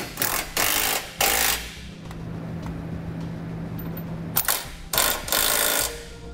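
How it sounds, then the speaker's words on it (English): Socket wrench on an 11/16 socket ratcheting to tighten hardware on a Draw-Tite Max-Frame trailer hitch receiver, loud repeated bursts of ratchet clicking with pauses between strokes, close up. "we can take an 11/16 socket and tighten up our hardware"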